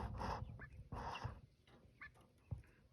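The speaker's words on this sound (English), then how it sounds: "And here are the chickens." Several short bursts of clucking hens in quick succession, fairly close, with brief pauses between them.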